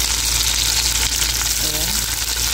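Chopped onions hit hot oil in a pan and sizzle loudly and continuously up close, with a faint stirring scrape.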